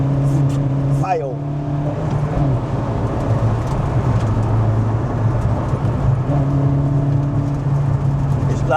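Volkswagen Golf GTI engine roaring loudly and steadily while the car drives at about 90, a continuous strained drone with a brief shift in pitch near the start.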